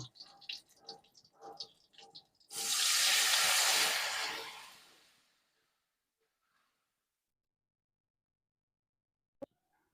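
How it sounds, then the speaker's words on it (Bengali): Water poured into a pan of rohu fish mustard curry, a loud splashing pour of about three seconds that fades out into near silence, with a single sharp knock near the end. "আমি আরও সামান্য পরিমাণে জল দিয়ে দেব"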